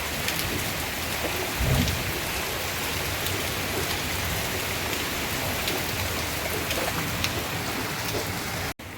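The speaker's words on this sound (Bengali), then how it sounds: "প্রচণ্ড বৃষ্টি পড়ছে এখনও" Heavy rain pours steadily and densely on surfaces, a constant loud hiss with a low thunder rumble near the start, and no voices.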